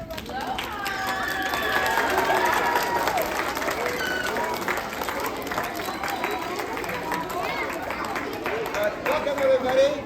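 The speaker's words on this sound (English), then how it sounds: "round of applause for Lohan" Crowd applause for a Shaolin lion dance school at a school Lunar New Year celebration, sustained clapping mixed with cheers and crowd chatter, steady and fairly close throughout.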